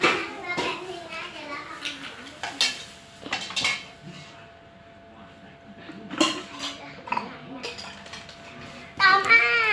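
A pan and metal utensils clatter and clink repeatedly during home cooking and frying, irregular knocks near and fairly loud, with children's voices and talk mixed in.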